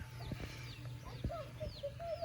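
Backyard chickens, a hen with her seven chicks, cluck and peep faintly at a distance over a steady low background hum.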